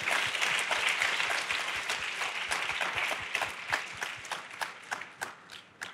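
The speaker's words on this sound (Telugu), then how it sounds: "చప్పట్లు కొట్టండి దేవుని కొరకు." A church congregation clapping together in praise, a dense burst of applause that thins into sharper, spaced individual claps and fades toward the end.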